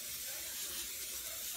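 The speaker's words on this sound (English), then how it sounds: "I have an olive oil cooking spray just to lightly" A brief hissing spray, steady and close, of olive oil cooking spray misting a pan.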